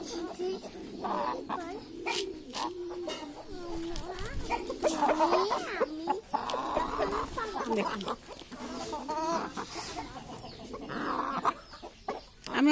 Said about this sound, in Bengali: আমার মুরগিগুলো আমি ছেড়েই পালি, এভাবে ছাড়া থাকে